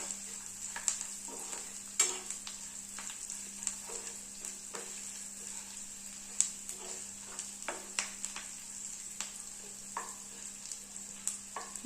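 Ingredients for coconut chutney sizzle steadily in a hot pan as they brown, with a spoon scraping and stirring at irregular intervals over a constant frying hiss.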